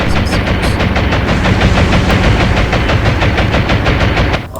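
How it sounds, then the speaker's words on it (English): German rockets fire during a naval battle in the game Atlantic Fleet, a loud, continuous rapid-fire barrage of launches and blasts rattling on for several seconds before cutting off abruptly. "Oh wow, what's this? German rockets, it seems."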